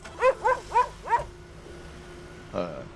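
A cartoon dog in the recycling-center video game My Recycling Center gives four quick, bright, evenly spaced yips, then a short pause before one last fainter bark.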